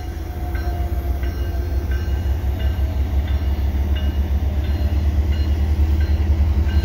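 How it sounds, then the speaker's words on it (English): A CN double-stack freight train rolls past close by a stopped Via Rail train at Dorval in winter: a steady, heavy rumble with the rhythmic clack of wheels over rail joints. "There's a double stack train passing by this stopped via train."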